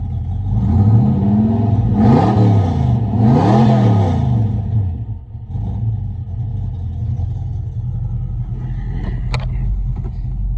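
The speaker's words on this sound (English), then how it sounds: "you can hear the car, the noise in the car, the rumble." Car fitted with turbo mufflers, heard from inside the cabin: two loud revving surges of engine rumble rising and falling, then a steady low drone at idle.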